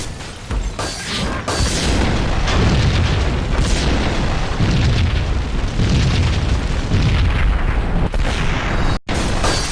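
Continuous heavy explosions in the video game Max Payne, loud rumbling booms rolling one into the next for several seconds with a brief cutoff near the end.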